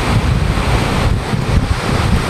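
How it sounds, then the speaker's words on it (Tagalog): Strong cold wind buffets the microphone by the sea, with a continuous rough roar and surf-like rushing, loud and unbroken. "Kaya ang hangin, grabe kay kalamig sa hangin."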